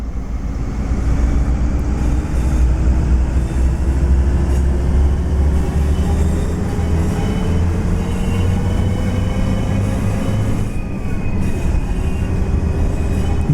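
A Train Sim World 4 train in a video game accelerating through gear changes, with a loud, continuous rail rumble and a rising engine whine that climbs, drops back and climbs again near the end, heard alone.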